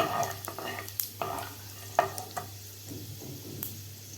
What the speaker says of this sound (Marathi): आपल्याला व्यवस्थित हे फ्राय करून घ्यायचं आहे